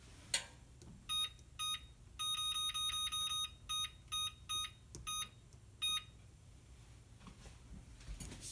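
A digital kitchen timer beeps repeatedly while it is being set for cheesemaking. Short, bright electronic beeps come close up, some single and some in quick runs, over faint room noise.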